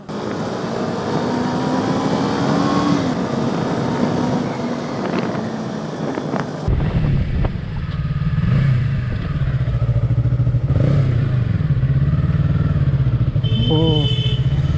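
A Yamaha R3 sport motorcycle engine hums steadily while riding, first with strong wind rush across the microphone, then a smoother, closer drone with rising and falling revs as the bike moves along.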